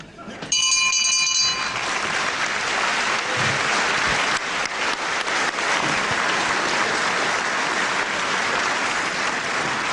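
At a wrestling match, a bell clangs in a quick burst of ringing tones near the start, then a crowd's loud, continuous applause takes over and carries on.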